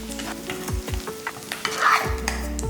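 Onions and spices sautéing in a pan for Tamil-style fish gravy, a steady close sizzle broken by repeated scraping stirs of a spoon, loud and continuous with no voices.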